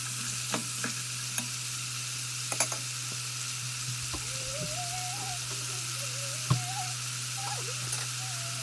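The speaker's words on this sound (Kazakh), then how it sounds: "Жақсылап араластырып қуырамыз." Shredded cabbage fries quietly in a pan with a soft, continuous sizzle, broken by a few light clicks and scrapes as it is stirred.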